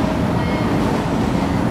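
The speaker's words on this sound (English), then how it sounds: "So every few minutes, there's a freaking train going past." MRT train running along the track beside a restaurant in Jurong East, a loud continuous rumbling roar filling the whole moment.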